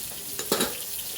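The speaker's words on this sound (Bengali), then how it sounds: "ভালো করে ভেজে নেব।" Soybean chunks and potato frying in a pan with turmeric and salt, a soft continuous sizzle broken by a quick scrape of a spatula stirring, close and fairly quiet.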